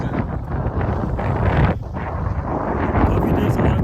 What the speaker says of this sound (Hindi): काफ़ी तेज हवा चल रही है और इतनी ठंडी हवा है ना